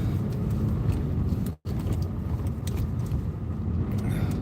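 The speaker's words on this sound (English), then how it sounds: "Welcome to Toronto traffic." Toronto street traffic rolls past, a continuous close rumble of car engines and tyres with a brief cut in the middle and scattered clicks and rattles, no voices.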